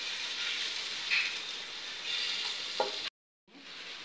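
Mushroom biryani masala frying in a pan, a steady close sizzle with occasional stirring scrapes and a brief silent gap near the end.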